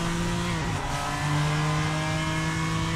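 BMW M4 GT3 race car, modded as the Beiro GT3, in the Assetto Corsa racing game, a loud sustained engine drone with a brief pitch dip like a gearshift, then a steady climbing whine.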